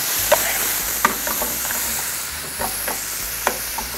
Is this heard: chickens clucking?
no